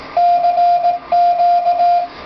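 Two long, steady electronic beep tones in a row from a K1EL K42 Morse keyer kit, loud and clean, separated by a short gap over a faint background hiss.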